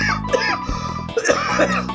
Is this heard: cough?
yes